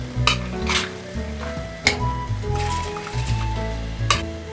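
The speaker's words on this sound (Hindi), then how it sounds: "पानी गर्म हो गया, इसमें स्टीम बनने लगी है। अब इस स्टेज पे हम इसमें दालें ऐड कर रहे हैं।" Soaked lentils are tipped into steaming hot water in a cooking pot for haleem, making soft splashing, rustling bursts over steady background music.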